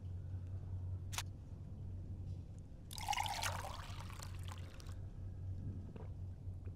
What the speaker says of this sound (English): Come on, there's a water cooler.